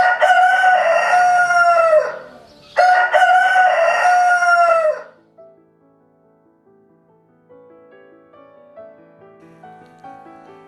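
A rooster crows twice in quick succession, loud and close, each call a long bright cock-a-doodle-doo, followed by a faint, quiet tail of softer sounds.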